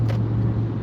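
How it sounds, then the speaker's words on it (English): A car fitted with an aftermarket exhaust drives just ahead in traffic, its steady low engine drone close and continuous throughout, with no voices. "this car ahead of us has an aftermarket exhaust. I can look at it, I can tell by the sound."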